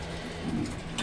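A pigeon in a breeder cage gives a single soft, low coo that swells briefly, close by and quiet against a dim background hum.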